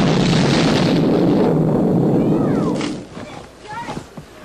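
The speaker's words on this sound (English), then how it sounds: "I'm going to explode." A cartoon explosion effect from the animated series Capitol Critters: a loud, sustained rumbling blast lasting about three seconds, then fading into quieter whooshing and debris sounds.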